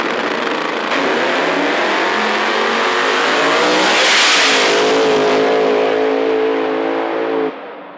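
Small tire drag racing cars launch and roar down the strip at Knoxville Dragway, the loud engine noise building to a peak as they pass close by, then the sound holds and cuts off.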